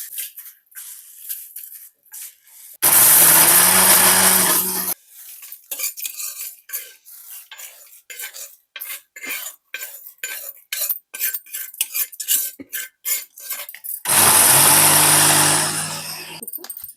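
Mixer grinder whirring loudly as it grinds spice powder with garlic in the jar, two separate bursts of roughly two and three seconds with quieter clinks and handling sounds between them.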